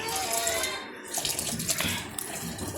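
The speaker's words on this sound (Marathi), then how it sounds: "आता पाणी वगैरे भरते" Water from a tap pours steadily into a container, a continuous splashing rush that stays fairly close and even throughout.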